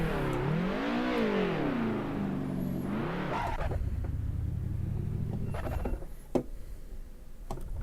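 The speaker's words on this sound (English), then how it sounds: "I'm trying to do burnouts here" A BMW M3 E30 engine in Assetto Corsa revs and wavers through a burnout, the pitch rising and falling in loud swells before settling into a lower rumbling drone with tire noise and a few sharp clicks.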